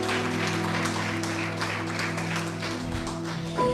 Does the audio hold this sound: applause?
yes